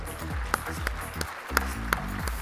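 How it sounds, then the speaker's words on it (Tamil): Audience applause in a hall as an honoree is called onstage at a business conference, a steady wash of clapping with a few sharper claps over low background music. "எல்லாரும் நல்லா கைத்தட்டலாமே."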